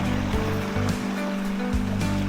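Busagak Falls, a small waterfall in Pinamungahan, Cebu, pours in a constant, close rushing hiss of water, loud and unbroken throughout.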